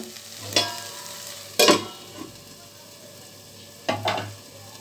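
Green peas poriyal cooking in a pan, with a few short scraping stirs over a low, steady sizzle and no talking.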